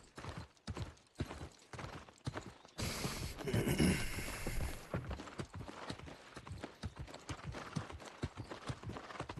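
Horse hooves clip-clop in rapid, uneven bursts, loud and close, with creaking mechanical sounds and a brief swell of louder noise in the middle.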